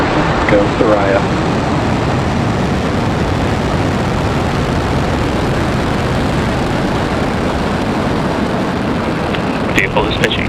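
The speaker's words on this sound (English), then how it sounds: "Falcon 9 has successfully lifted off from Slick 40 at Cape Canaveral Space Force Station in Florida" A Falcon 9 rocket lifts off from Space Launch Complex 40 at Cape Canaveral Space Force Station in Florida, its engines giving a loud, continuous broadband roar that fills the whole span, with a few faint crackles near the end.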